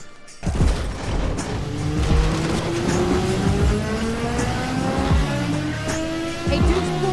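Race car engines in a film car chase, a booming Ducati motorcycle giving way to the screaming wail of a 4-cylinder engine, with rising revs, tire squeal and skidding throughout, loud and close with no talk.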